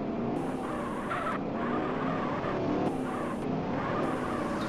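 Car engine noise with tire skids and squeals in the Argonath RPG video game during a police pursuit, a steady driving roar broken by repeated skid bursts throughout.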